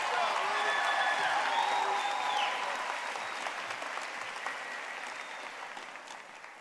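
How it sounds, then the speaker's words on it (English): Audience applause fills a graduation commencement ceremony, a dense, steady clapping from a large crowd that stays loud throughout and slowly tapers toward the end. "Please give them another round of applause."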